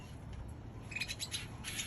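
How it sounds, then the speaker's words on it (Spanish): A baby canary begs for food with a run of thin, high chirps, faint at first and then more frequent in short bursts. "Ahí está pidiendo que se lo pique, el pájaro está entretenido"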